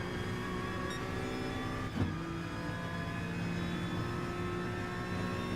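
A Honda NSX race car in a racing video game at Suzuka holds a steady, droning engine note, heard alone with only a small bump partway through.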